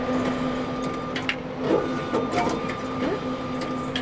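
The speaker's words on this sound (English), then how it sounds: "Things I did not expect at Ardwick: a ticket machine." A railway station ticket machine at Ardwick prints tickets, giving a steady mechanical whir with a sustained hum and faint rattling bursts, heard close up with no talk.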